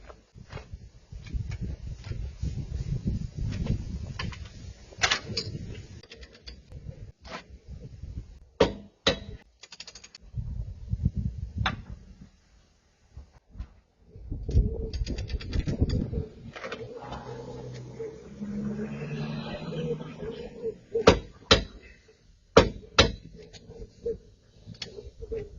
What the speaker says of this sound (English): So that's just torquing it up to spec, then coming back an eighth of a turn, and then going back and torquing it to spec